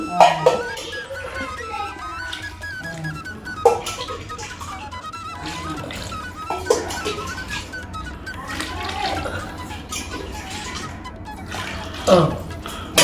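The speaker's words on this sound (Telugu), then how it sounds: "ఇప్పుడైతే ఎసరు పోసేసుకుంటున్నారు" Water pours into a pot of spiced chicken for biryani, a steady trickling splash running under a voice, with a few louder splashes.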